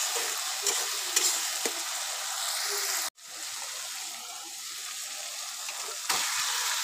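Chicken pieces going into hot spiced oil in a pan, a loud steady sizzle that cuts out briefly and then resumes with crackling bursts, close up and with no talk.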